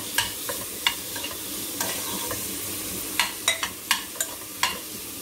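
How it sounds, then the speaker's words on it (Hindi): Vegetables and tomato sauté in a hot pan while preparing masala dosa filling, giving a steady soft sizzle with a string of sharp spoon-scraping clicks spread across it, fairly close and with no talking. "थोड़ा सब्जियों को इसमें थोड़ा सा भून लेंगे तो और अच्छा टेस्ट आ जाता है"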